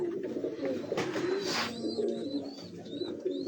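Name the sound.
pure Kasuri pigeon chicks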